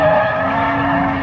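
A drifting car holds a long, steady tire squeal with a droning engine underneath, loud and continuous with no talk.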